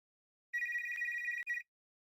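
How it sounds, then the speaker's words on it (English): An electronic cell phone ring trills steadily for about a second, breaks briefly, then rings once more before stopping, clear and alone. "The ringing of Lucky's phone interrupted Sonia's anxious thoughts."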